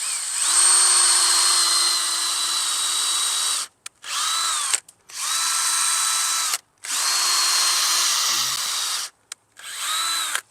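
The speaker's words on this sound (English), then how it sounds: "Let me pre-drill." A power drill whines loudly in several long bursts pre-drilling new fence wood, each a few seconds long with short pauses between, its pitch steady with brief dips as it bites.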